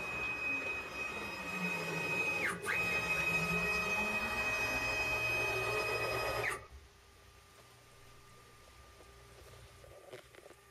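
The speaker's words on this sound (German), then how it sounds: "Die Spindel fährt wieder drauf zu, in diesem Fall hat sie offensichtlich den Sensor auch berührt." A CNC spindle descends steadily onto a tool length sensor, giving a close, continuous motor whine with rising and falling tones that stops abruptly partway through, leaving a quiet background hum.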